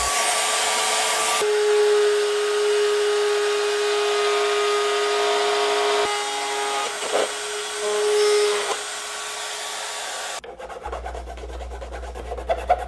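A power tool whines steadily for several seconds, pitch shifting slightly as it cuts wind turbine blades, then stops, leaving a low hum.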